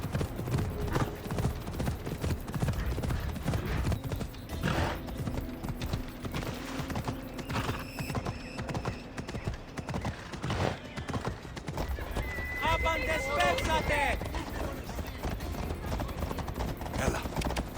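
Rhythmic clip-clop of horse hooves in Assassin's Creed Odyssey runs throughout, with a horse whinnying partway through, over a busy game soundscape.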